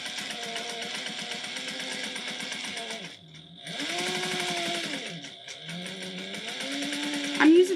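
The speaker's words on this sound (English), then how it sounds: "we're going to stitch this at 1/4 of an inch. I always like to back stitch well at the beginning and end." Sewing machine stitching denim with a denim needle, running in steady whirring bursts with short pauses and reversals for back stitching, fairly quiet and close, with no talk over it.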